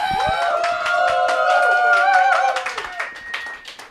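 Audience applauding a band at a live show, with dense clapping and cheering voices that swell, then thin out toward the end.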